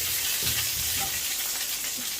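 Green chillies frying in oil with browned garlic in a pan, a close, continuous sizzle with a soft stirring scrape, and no one speaking.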